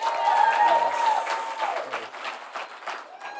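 Applause from a comedy club audience, a dense burst of clapping that swells early and then thins into scattered claps, with crowd noise and brief murmurs mixed in.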